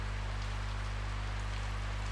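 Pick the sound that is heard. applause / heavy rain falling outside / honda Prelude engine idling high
heavy rain falling outside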